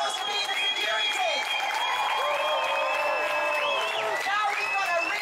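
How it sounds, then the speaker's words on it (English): A large outdoor crowd at a Trafalgar Square rally applauds steadily, with cheers and whoops rising through the dense, continuous clapping. "Give yourselves a great big round of applause for being the security."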